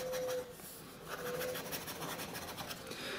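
A fountain pen nib with a fine tip scratches steadily across paper in short strokes and brief pauses, faint and close, with no one speaking.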